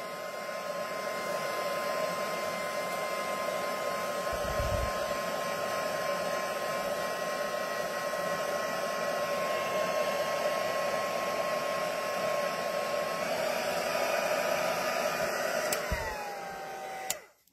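A heat tool runs steadily for heat embossing slow-drying craft ink on a card, a continuous close whirring blow with a faint whine, alone, then switching off at the end.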